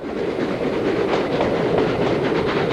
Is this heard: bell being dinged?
no